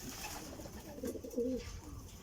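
A racing pigeon returning to its loft during a race coos softly a couple of times, the low rolling call faint against quiet background noise.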